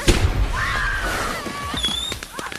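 Fireworks packed in a trash bin erupt in a film scene: a sharp burst followed by whistling, rising and falling screeches and crackling pops, close and loud over a rumbling background.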